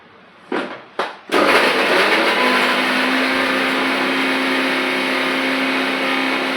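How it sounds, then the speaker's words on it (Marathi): A kitchen mixer grinder blends onion, chilli and tomato into a paste. Two short pulses come first, then the motor roars loudly and continuously at close range with a steady whine. "आता मी याला ना छान मस्त असं पॉटमध्ये बारीक करून घेणार आहे"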